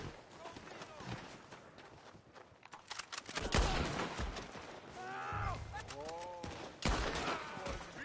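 Gunfire crackles in bursts through a PS5 shooter game, sharp shots clustered around the middle and end, mixed with game noise and a person talking over it.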